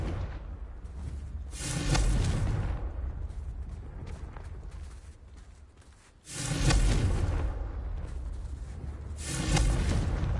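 Confringo spell blasts in Hogwarts Legacy used to smash vases, three loud whooshing explosions spaced a few seconds apart, each with a broad rumbling burst that decays into quieter ambience.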